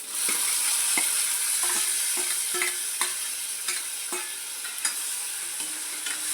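Crushed garlic, peanuts and tomato frying in hot oil with asafoetida and cumin, a steady close sizzle with a series of scraping spoon strokes as the pan is stirred.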